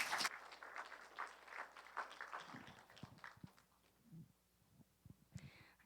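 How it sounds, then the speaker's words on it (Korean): A church congregation applauds at the start of a testimony service, with clapping that is quiet and fairly distant at first and then thins out into scattered claps and shuffling during the second half. "자, 박수하십시다."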